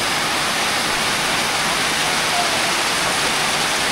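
Steady, dense rain falls at a campsite on a farm, a continuous hiss with no voices over it.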